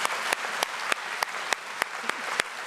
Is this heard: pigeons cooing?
no